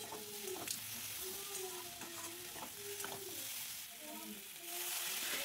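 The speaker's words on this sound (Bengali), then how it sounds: "লবণ হলুদ জিরে গুঁড়ো লঙ্কার গুঁড়ো দিয়ে আর একটু ভেজে নেব।" Pomfret fish with flat beans and potatoes fries in a pan with salt, turmeric, cumin powder and chili powder, giving a soft, continuous sizzle with light stirring scrapes and faint tonal sounds underneath.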